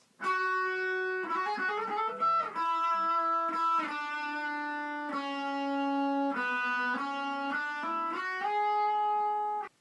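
Electric guitar, lightly distorted, plays a melodic passage from a Pokémon Omega Ruby/Alpha Sapphire battle theme, with quick fretted runs and hammer-ons early on, then sustained notes, loud and close with no talking.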